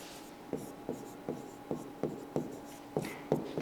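Chalk or marker strokes on a board during a physics lesson come as a regular series of about nine short scratchy taps, close and fairly quiet, with no talking.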